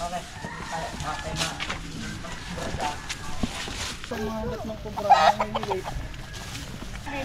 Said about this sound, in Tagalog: Ito po ay farm ng mga manok.